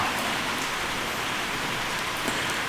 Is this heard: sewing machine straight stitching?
no